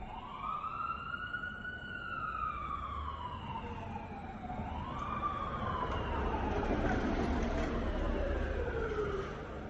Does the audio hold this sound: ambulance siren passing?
yes